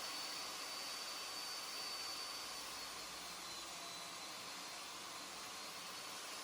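A saw blade cutting 50mm wood strips gives a continuous, even whirring hiss that holds steady throughout without breaks.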